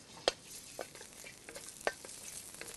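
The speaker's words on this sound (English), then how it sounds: "Use a spatula to stir nicely." Chili and garlic stir-frying in a tablespoon of oil in a wok, a soft continuous sizzle punctuated by a few sharp clacks of a spatula against the metal.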